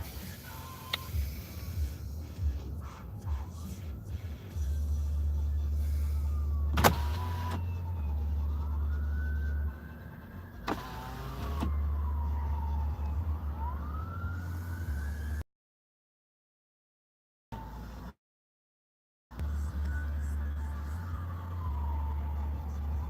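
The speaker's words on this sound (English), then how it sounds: "I'm hearing a siren outside," An emergency siren outside in Sierra Vista wails up and down, rising and falling over a steady low rumble of traffic, moderately distant, with brief gaps of silence near the end.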